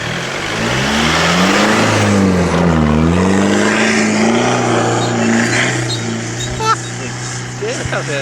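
A car without four-wheel drive labours across a rough, rocky, dusty outback trail in the Macdonnell Ranges near Alice Springs; the engine drones steadily and close throughout, with people talking over it.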